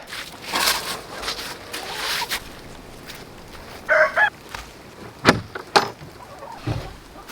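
Chickens cluck and squawk inside a homestead coop in icy winter weather, several short calls close by with brief pauses, plus a few sharp knocks and rustles.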